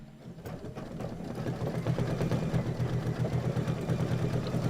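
An embroidery machine stitches through several quilt layers at a reduced 800 speed, a steady rapid mechanical chatter that builds in and holds close and even throughout.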